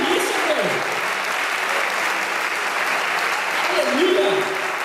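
A church congregation claps steadily and loudly throughout, dense applause filling the room, with a voice calling out briefly beneath the clapping.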